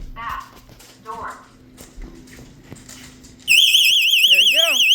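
A Vivint house alarm siren blares after the back door triggers it, a loud warbling wail that cuts in abruptly after quieter household noises and a voice, continuing steadily to the end.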